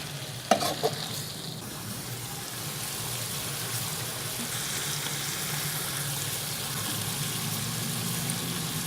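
Street-style beef karahi with ginger and chopped coriander is stirred and mixed in a sizzling pan: a couple of sharp metal knocks at the start, then a steady close frying hiss with a busy stirring texture.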